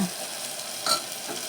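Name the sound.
frying and stirring in a pan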